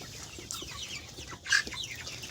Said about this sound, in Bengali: এই যে মুরগিগুলো দেখতে পাচ্ছেন